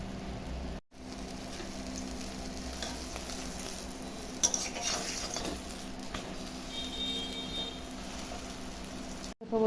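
Aloo paratha fries in oil in a pan at home, giving a steady, soft sizzle with faint scraping and a couple of brief clatters, close and quiet.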